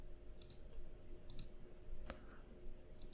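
Computer mouse clicks while working in Fusion 360 modelling software: sharp, faint, close clicks come in small pairs spaced about a second apart, over a quiet room hum.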